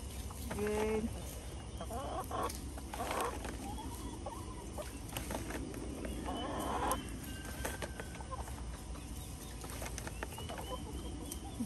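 Chickens cluck and squawk in an agitated way around a backyard gravity-fed waterer made from a 55-gallon drum, several short bursts over steady outdoor background noise.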